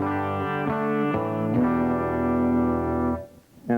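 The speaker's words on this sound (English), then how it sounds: "the clean tone is essentially the sound of the guitar straight into the amp" Stratocaster electric guitar with a clean tone played straight into a tube amp, ringing out a few plucked notes and chords that sustain with bright harmonics before fading, then a fresh strum at the end.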